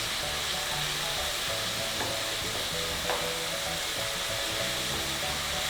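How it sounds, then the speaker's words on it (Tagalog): Ground pork sizzles steadily in a frying pan, a constant loud hiss with faint occasional stirring clicks and no talking. "At niluluto ko lang yan hanggang sa maging light brown na yung kulay ng pork"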